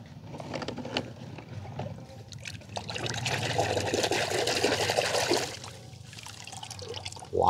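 Water pours and trickles out onto muddy toy cars in a garden in midwinter, a steady splashing stream that swells in the middle and then thins to drips, with no talking.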